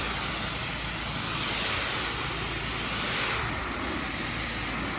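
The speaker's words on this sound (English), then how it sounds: "So I find it easier to use a wand with a fan pattern, just to literally push dirt, push junk all the way out the way." Spray from a pressure washer wand with a fan-pattern nozzle rinsing a surface, a steady, loud hiss that runs without a break and swells slightly twice.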